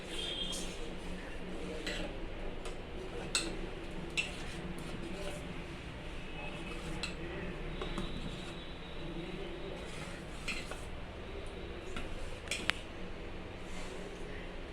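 A utensil stirs semiya with moong dal in a pot of milk, making soft scrapes and light clinks against the pot's bottom in a quiet kitchen, with faint occasional taps over a low background hum.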